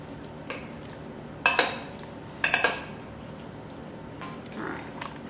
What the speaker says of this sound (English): What I'll do is add some grated cheese. I'm going to mix it.